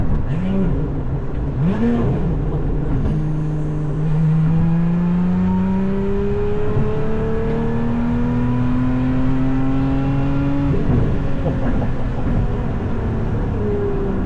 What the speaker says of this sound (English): That supercharger sounds so good